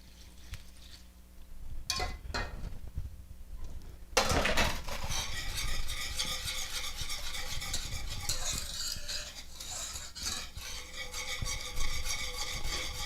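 Milk being whisked into a sugar and cocoa mixture for a chocolate cream pie, a brief clink of utensils then steady, close, scraping whisk strokes against the bowl that continue without pause.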